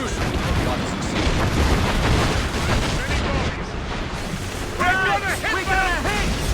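Ship-mounted mortars in Assassin's Creed Rogue booming in heavy naval combat amid rushing sea and waves, with shouted voices and other sounds layered over the rumble.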